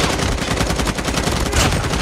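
Dense, continuous automatic gunfire from Call of Duty Mobile, rapid loud shots overlapping with no pauses.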